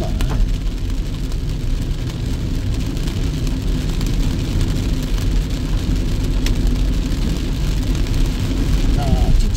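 Heavy rain pounds a car driving through flooded Busan streets, a steady broadband roar of rain and road spray with low engine rumble underneath, constant and close throughout.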